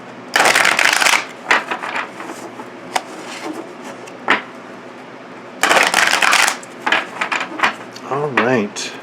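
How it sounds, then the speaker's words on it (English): Two bursts of riffled card shuffling, each followed by a few sharp taps and snaps of the deck being squared, with a brief voiced sound at the end. "Shuffle these real quick here."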